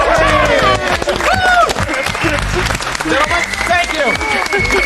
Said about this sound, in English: Now we have applause.